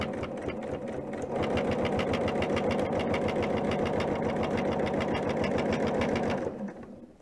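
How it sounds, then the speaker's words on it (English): A sewing machine runs a straight stitch through already quilted fabric, a steady rapid mechanical chatter up close that starts slightly softer, holds for several seconds, then stops abruptly near the end. "we're going to do a straight stitch"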